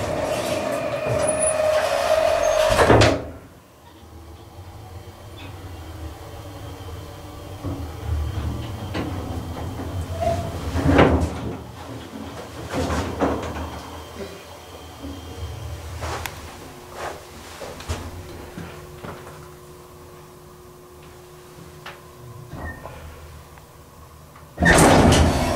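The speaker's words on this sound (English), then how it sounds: "You see the door closed and just goes to 2." A Dover hydraulic elevator at a Travelodge in Williamsburg, VA runs with a low steady hum. A door thuds shut near the start, and faint clunks and rattles follow. The car settles, and a second heavy thud comes at the end.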